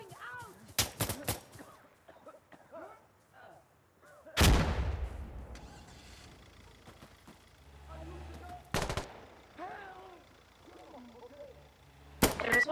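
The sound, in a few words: grenade thrown and exploding in video game Insurgency: Sandstorm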